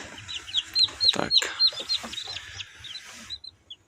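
Australorp and Kuchinsky chicks fresh from an incubator, peeping in rapid high repeated cheeps with soft clucking, faint and close, with a single spoken word.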